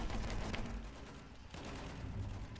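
Bursts of rapid weapon fire in the video game Battlefield 1 crackle on and off under a steady din of battle, fairly loud and dense throughout.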